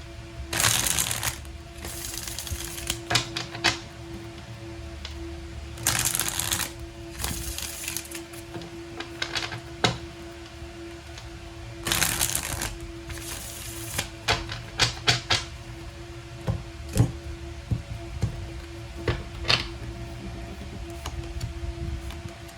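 Tarot cards being shuffled in repeated bursts of crisp riffling and slapping, close by, with short pauses between rounds over a quiet background hum.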